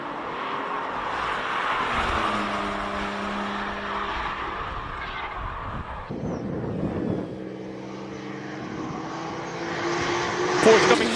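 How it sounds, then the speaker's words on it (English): A Porsche race car at a hillclimb speed event in Cape Town passes at speed, its engine note rising and shifting through gears over a steady roar, fairly distant, with a louder burst at the end. "Porsche coming through nice and comfortably"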